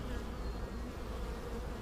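Honey bees buzz steadily around an open hive frame with drone cells and honey, a close, continuous droning hum with no break.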